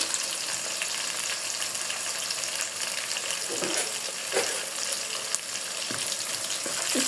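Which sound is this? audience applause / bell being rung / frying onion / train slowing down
frying onion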